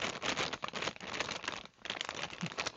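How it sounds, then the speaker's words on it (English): Continuous crinkly rustling of packaging from a sewing subscription box, close and fairly loud, with a brief pause midway before the crackling resumes. "If you don't like the rustling."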